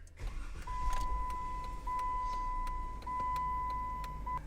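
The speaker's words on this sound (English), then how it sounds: "we're going to take our working key and start the engine" A Jeep Wrangler engine cranks and catches after a key turn, settling into a low idle, with a steady electronic chime tone running alongside.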